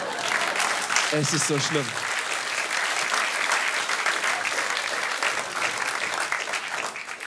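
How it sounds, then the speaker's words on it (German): Studio audience at a German TV comedy show applauding a comedian, a dense continuous wash of clapping throughout, with a brief spoken line from the stage near the start. "Schön, dass ihr klatscht."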